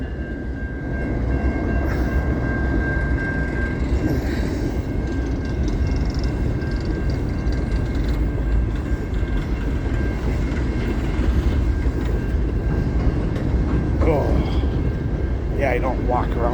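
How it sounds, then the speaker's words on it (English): A train passes during a walk, a continuous low rumble with rolling wheel noise and a faint high tone that holds steady across the whole stretch, with a few brief sounds near the end. "Maybe I can watch a choo-choo."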